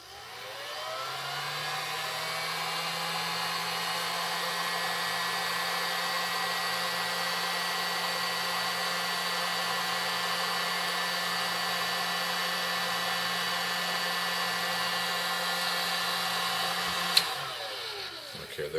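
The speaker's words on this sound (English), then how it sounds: "I'm going to first heat it up and just to snug the heat shrink down" A heat gun runs continuously for about seventeen seconds to shrink heat shrink tubing onto fishing line, a loud, steady blowing whir with a high whine, then switches off and spins down.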